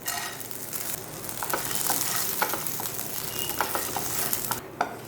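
Roasted gram sautés in hot oil for a coconut-free chutney, a continuous, close sizzle broken by scattered spatula scrapes and taps.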